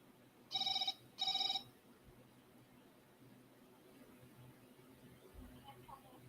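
Two short electronic telephone ring bursts sound on an outgoing call, followed by quiet line hiss and faint background noise.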